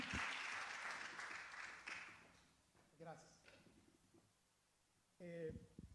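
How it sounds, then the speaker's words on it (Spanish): Church congregation applause at a Spanish-language evangelical service, a dense wash of clapping for about two seconds that fades out, followed by scattered noises and a few brief bursts of voice. "Démosle un aplauso al Señor"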